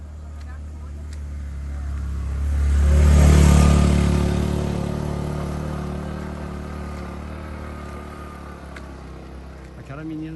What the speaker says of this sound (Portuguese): Vê a moto aí.